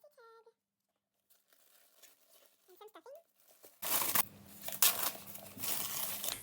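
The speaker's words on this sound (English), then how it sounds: "I'll continue the unwrapping of the bag." Chanel 25 small handbag in black shiny crumpled calfskin being unwrapped from its packaging. After a quiet start with faint sounds, loud close crinkling and rustling of the wrapping continues to the end.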